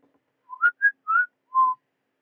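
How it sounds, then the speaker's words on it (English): A person whistles during an online drawing-game session: four short, clear notes that rise and dip in a quick little phrase, close and alone against silence. "Proceeds to immediately whistle again"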